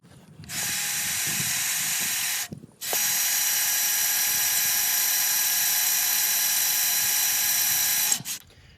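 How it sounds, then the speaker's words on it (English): A step drill bit whines through a drilled hole in sheet metal on a 1968 Sears Suburban 12 garden tractor during a diesel swap, clearing burrs in two sustained, loud bursts separated by a brief pause. "I'll probably get my step bit and clean that up a little bit just to get rid of the burrs."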